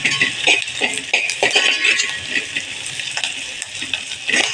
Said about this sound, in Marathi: अजून चांगला कांदा परतायला हवा